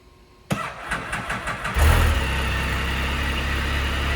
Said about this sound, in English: And then we'll go to try to start it again.